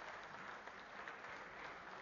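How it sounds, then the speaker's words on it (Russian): Applause at the award ceremony of the 2007 European billiards (pyramid) championship final, a steady, moderately distant wash of clapping from the audience throughout. "Но боюсь, что кроме аплодисментов ничего не будет"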